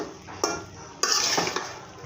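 A spatula stirring a brinjal and potato fry in a pan, two or three close scraping strokes over a faint sizzle, short and moderately loud.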